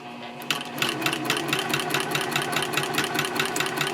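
A sewing machine stitches a quilted A5 journal cover at a 3.5 stitch length. A fast, steady mechanical whir with a rapid regular needle beat runs loud and close throughout, starting just after a brief quiet moment.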